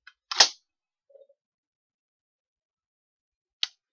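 Sharp dry clicks from a Kel-Tec Sub 2000 Gen 2 9mm carbine trigger resetting, a crisp snap followed by a faint tick and, after a long silence, one more isolated click, all close and clean.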